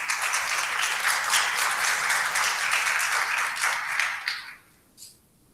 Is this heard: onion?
no